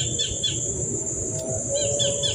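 Crickets kept as live feed for cucak ijo songbirds chirp in steady, close trilling bursts that repeat in several short pulses, over a low background rumble.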